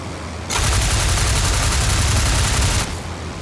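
Burst of machine gun fire from an enemy Fokker D7 biplane in an IL-2 Sturmovik Flying Circus dogfight, a dense, loud, continuous rattle of rapid shots lasting over two seconds under steady engine drone.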